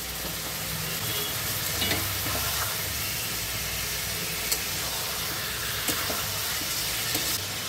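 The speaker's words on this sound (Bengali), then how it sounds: "আদা রসুন বাটা দিয়ে মাটনকে 5 মিনিটের মতো কষিয়ে নেব।" Mutton with ginger-garlic paste sizzles steadily in a pan and is stirred now and then, a continuous close hiss and fry with occasional scraping clicks and no talking.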